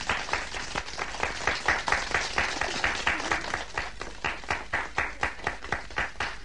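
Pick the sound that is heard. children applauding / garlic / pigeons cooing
children applauding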